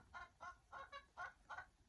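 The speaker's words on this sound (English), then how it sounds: "I don't know if you can hear the chicken in the background." A chicken clucks quietly in the background, giving six evenly spaced short clucks in about two seconds against a faint, steady room hum.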